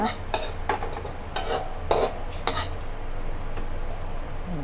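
Stir-fried spicy New Zealand mussels are scooped from a pan onto a plate. A metal spatula makes a run of sharp scraping clatters against the pan over a low sizzle, then the sound settles into a quieter hiss.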